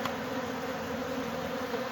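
Honeybees at a hive entrance hum in a continuous, close buzz with a steady drone and no voices.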